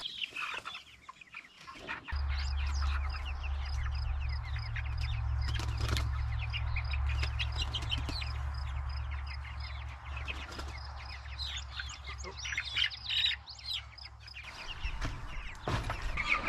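Meat chickens on an off-grid farm cluck and chatter steadily at close range, with a few sharper calls rising over a constant low mechanical hum through most of the stretch.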